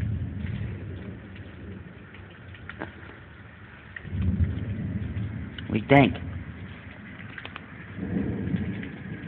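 Low rumbling thunder rolls in with steady rain during a Texas summer thunderstorm, with a brief spoken question partway through.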